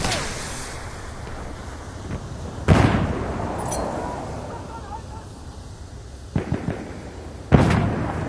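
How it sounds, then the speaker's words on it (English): Grenade blasts in a war video game, two sharp explosive booms a few seconds apart, one later and one near the end, each with a short rumbling tail over constant loud battle noise. "Grenade going out!"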